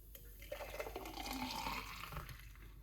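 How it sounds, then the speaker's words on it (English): Freshly blended celery juice with fruit pours out in a steady, fairly quiet liquid stream that runs for about two seconds, then eases off. "And all you're going to do is pour it out."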